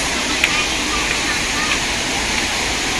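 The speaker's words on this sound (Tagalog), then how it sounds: "Wow, we are approaching the falls." Hinulugan Taktak waterfall in Antipolo City, Rizal, heard as a steady, broad roar of falling water that fills the whole clip at close range.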